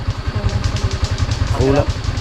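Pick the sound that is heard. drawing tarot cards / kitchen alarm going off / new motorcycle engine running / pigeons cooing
new motorcycle engine running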